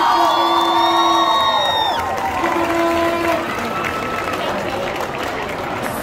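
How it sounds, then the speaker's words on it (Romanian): Student crowd at a freshman ball cheering and applauding after a couple's performance, loud shouts, whoops and high excited voices over clapping, tapering slightly toward the end. "Aplauze încă o dată pentru ei"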